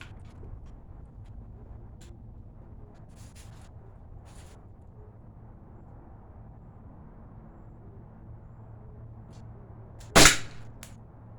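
A Glock 19 blowback airgun fires a single sharp BB shot late in the clip, loud and close, after a stretch of quiet room hum.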